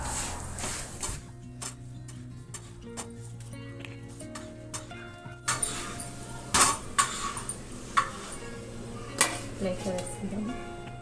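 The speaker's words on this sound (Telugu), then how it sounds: "ఈ విధంగా రెండు వైపులు తిప్పేసుకుంటూ పరాటాని కాల్చుకోవాలి" Lachha paratha roasts in oil on a pan and gets flipped, with a soft continuous sizzle under scattered metallic taps and scrapes of a utensil against the pan that grow busier later.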